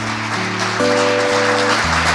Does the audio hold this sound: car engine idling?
no